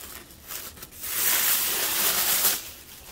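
Crinkly brown paper packaging rustling and crackling up close as it is unwrapped, swelling into a sustained, louder stretch of handling before easing off.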